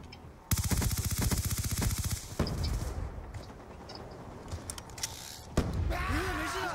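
Rapid bursts of automatic gunfire from a shooting video game, a dense machine-gun stream lasting over a second, then scattered single shots and a final loud burst, with brief voice-like sounds near the end.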